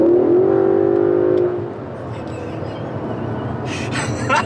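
Aston Martin DB11 in sport mode, engine note rising in a strong harmonic drone for the first second and a half before settling into a steady cabin rumble with road noise, a brief higher hiss near the end.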